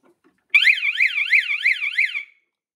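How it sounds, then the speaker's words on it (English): A small ready-made whooper alarm wails in a steady rising-and-falling siren cycle, about five loud sweeps in under two seconds, sounding alone and close before cutting off abruptly. "this is a Hooper Alarm already made, and it's not the one you have it installed on your car"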